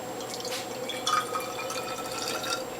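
Filtered water trickles and drips into a bottle of freshly pressed parsley, dandelion, collard, beet and carrot juice, a soft, steady liquid sound at close range with a faint background hum.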